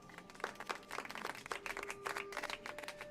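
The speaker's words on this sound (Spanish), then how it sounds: "vamos a recibirlo con un aplauso" A schoolroom of children claps to welcome a new pupil, a short burst of scattered, uneven hand claps that rises and thins out, moderately close.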